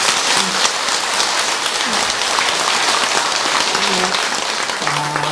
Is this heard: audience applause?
yes